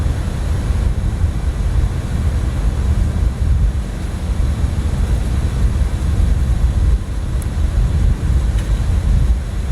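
An airliner's auxiliary power unit running in Microsoft Flight Simulator on a cargo run: a steady, loud, low droning rumble that holds unchanged throughout, with no talk.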